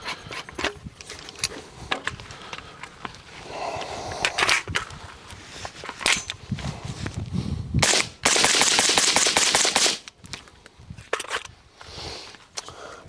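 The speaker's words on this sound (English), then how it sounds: "So we are at the Dylan Hush Kit" Suppressed 5.56 rifle shots through a Dylan Hush Kit suppressor crack out in a rapid irregular string of sharp reports, some in quick bursts, with mechanical clatter between them and no talking.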